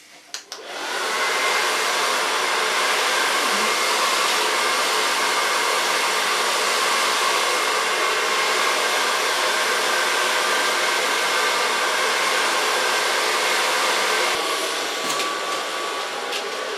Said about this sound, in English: I start on the longest side with drying the hair